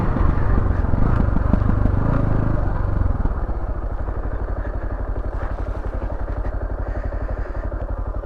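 A 2019 Beta Alp 4.0 motorcycle ridden on a chalk hill, loud close engine thrum that eases into a steady, rapidly pulsing low idle chug as it pulls over.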